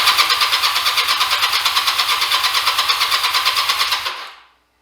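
A 2004 Honda Rebel 250 (CMX250C) motorcycle engine cranks over with a rapid, even pulsing starter chug that never catches, then cuts off into silence after about four seconds.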